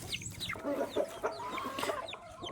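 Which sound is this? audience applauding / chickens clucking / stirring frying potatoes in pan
chickens clucking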